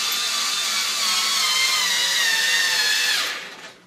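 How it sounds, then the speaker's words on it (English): A handheld electric screwdriver with a weakening battery, used on an original Xbox console, runs loud and close, a steady high whir that sags in pitch and then spins down to a stop near the end. "Sounds like my drill's going dead."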